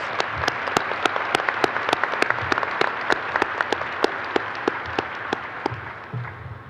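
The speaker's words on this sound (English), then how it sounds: "Let's give them a round of applause." Applause at an engineering and management graduation ceremony, a steady wash of many hands clapping with sharp individual claps standing out, holding level for several seconds before thinning slightly at the end.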